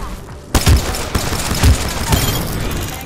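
Gunfire from a Hammerpoint P2020 pistol in the video game Apex Legends: several loud, close shots in quick succession, with rumbling impacts and battle noise between them.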